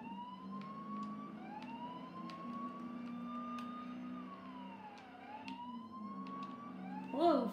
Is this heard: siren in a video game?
yes